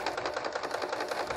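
Scissors snip through the excess fabric and foam tail of a cactus-print inside-out placemat at a sewing table, a quick series of close, crisp cuts in steady rhythm with no talking.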